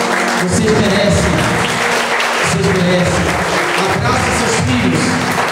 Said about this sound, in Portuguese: Uma salva de palmas. Vocês merecem.